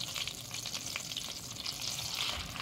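Thin pork loin slices fry in a pan with a steady, close crackling sizzle that holds even and unbroken throughout.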